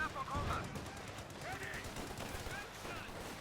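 Machine-gun and rifle fire rattles in a Company of Heroes 2 battle, with faint bursts of fire and small blasts under a game commentator's voice.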